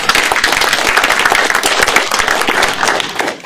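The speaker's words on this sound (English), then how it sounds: "So, a round of applause for Patrick." Audience applause at the 2014 ModelOFF Financial Modeling World Championship awards ceremony, a dense, loud round of clapping from a crowd that holds steady for a few seconds and then begins to fade.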